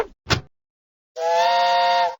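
A steady, bright steam-train whistle from the Curious George Train Station video game sounds for about a second, clear and loud, after a couple of brief clicks.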